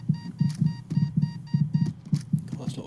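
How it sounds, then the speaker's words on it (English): Rhythmic electronic beeping from the FTL spaceship video game, repeated tonal pulses over a low thumping beat, steady and close throughout. "that's a lot of beeping, isn't it?"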